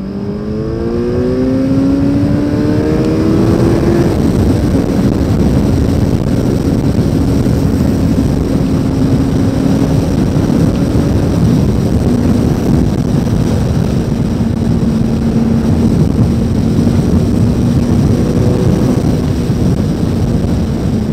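A 2023 Kawasaki Z900 engine drones loud and steady while riding, its pitch rising through the gears at first and then holding a long, even cruising hum under heavy wind rush, without talk.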